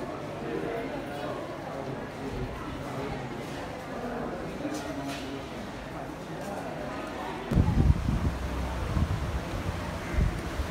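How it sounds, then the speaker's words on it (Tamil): Wind blows steadily at an airport in Sri Lanka, with rushing gusts buffeting the microphone that swell and grow heavier toward the end. "காற்று தெரியும், காற்று அடிக்குது."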